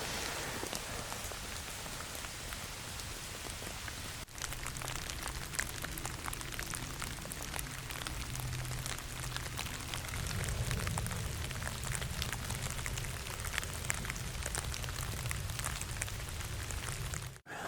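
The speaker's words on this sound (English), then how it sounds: "it's been raining all day today" Steady rain pattering on a surface outside a van, a dense continuous hiss of drops with a low rumble underneath, unbroken throughout.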